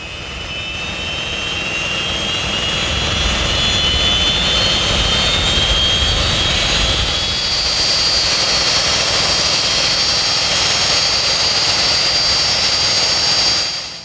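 A GAG inertisation unit's jet engine roars continuously at close range, a loud, steady blast with a high whine layered over it and no voices.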